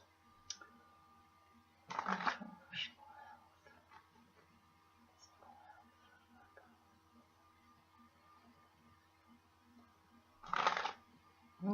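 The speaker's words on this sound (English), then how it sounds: "I'm shuffling the cards." Short bursts of tarot cards being shuffled, two main riffles several seconds apart with faint handling clicks in between in a quiet room.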